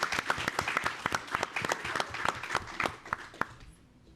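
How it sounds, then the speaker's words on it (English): Audience applause for finalists at a 24-hour design project final presentation, a steady burst of close hand claps with sharp individual slaps that thins out and fades near the end. "let's just give a quick round of applause for the finalists"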